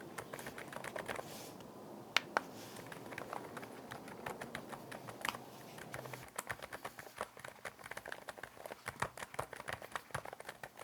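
Quiet, rapid typing on a NuPhy Kick75 keyboard with quiet mechanical switches, soft, muted keystrokes in a steady stream, close and low in volume.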